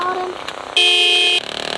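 A single bright, electronic-sounding motorcycle horn blast in a bike racing video game sounds for about half a second, loud and close, between stretches of engine drone.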